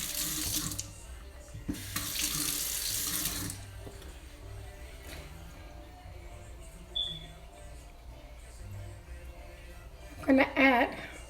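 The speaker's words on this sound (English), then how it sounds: "let me rinse this" Water runs from a kitchen sink tap while something is rinsed during pizza-dough preparation, in short bursts near the start and again at the end, with quiet kitchen handling and a faint voice between.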